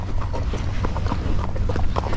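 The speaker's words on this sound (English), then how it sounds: "has a nice slow quarter horse walk, and he has a nice little trot and lope" Quarter horse walking on a trail, hooves clip-clopping in a steady, close, loud rhythm over constant background noise.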